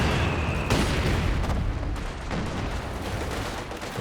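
Double mortar fire in Company of Heroes 2 video game booms in several muffled blasts and cracks over a dense, continuous battle rumble, loud and close.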